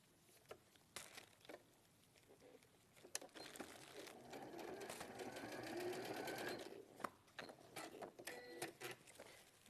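Sewing machine stitching a garment sleeve along the shoulder line, starting with short stop-start bursts of needle chatter, then a longer steady run in the middle, then more short bursts, close and fairly quiet.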